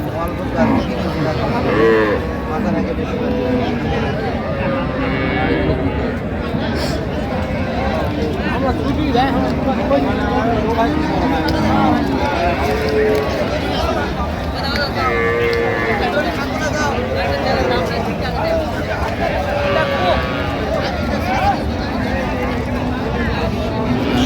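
At a cattle market in Raniganj haat, cows and calves moo repeatedly over a constant hubbub of crowd chatter and loud nearby talk, the lowing calls rising and overlapping throughout.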